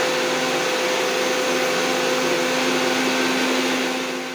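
An electric grinder runs at a steady, loud, whining roar as it grinds sun-dried, pan-roasted red chillies into powder, with no break for the whole stretch.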